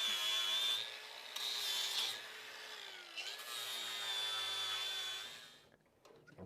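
An angle grinder rounds off hard steel edges on a leaf spring mount for a 1937 Lincoln Zephyr. A steady, loud, high-pitched whine rises and dips slightly as it bites the metal, then winds down near the end.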